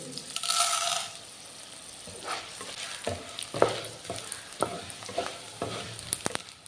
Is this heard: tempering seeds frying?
yes